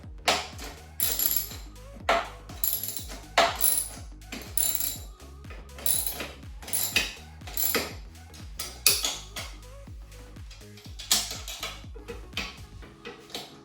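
Repeated metallic ratchet clicks in rapid bursts with brief pauses as bolts are tightened during assembly of an Offspeed 48V 1200W brushless XL electric quad bike, close and fairly loud with no talking.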